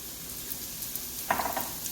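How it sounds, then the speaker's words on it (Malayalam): Chopped beetroot is stirred in hot oil for beetroot pickle, a faint steady sizzle with a few soft spoon-against-pan clinks toward the end, no talking. "ഇതിലേക്ക് നമുക്ക് അരിഞ്ഞു വെച്ചിരിക്കുന്ന ബീട്രൂട്ട് ഇട്ട് ഒന്ന് വഴറ്റിയെടുക്കാം."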